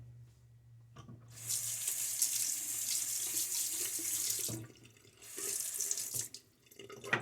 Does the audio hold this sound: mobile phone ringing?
no